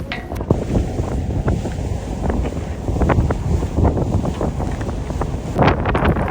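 Free ferry crossing the Hudson River, wind buffeting the microphone in a loud continuous roar with water and engine rumble underneath, no talking.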